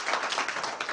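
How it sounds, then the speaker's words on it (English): Audience at a lecture gives a round of applause, a brief burst of many hands clapping, moderately loud and continuous. "Let's have a round of applause for him."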